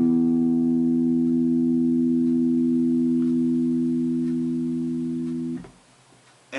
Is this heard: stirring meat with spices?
no